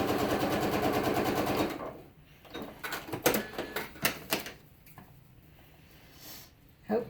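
A sewing machine runs steadily while stitching quilted strips for a string-quilted potholder, a loud rhythmic whir for under two seconds before it stops, followed by quieter handling clicks and rustling.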